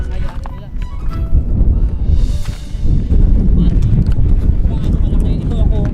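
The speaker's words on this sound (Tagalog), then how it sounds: "lumalakas na yung hangin, tapos lumalakas na rin yung alon" Strong coastal wind roars across the microphone with crashing waves below, a loud, continuous rush of broadband noise filling the whole stretch with no pause.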